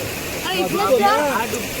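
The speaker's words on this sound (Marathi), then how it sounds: "आता हा इथं खूप छोटा धबधबा झाला आहे" Water pours steadily over a small, knee-high waterfall on a river in Konkan, a close, continuous rushing splash with a voice speaking over it.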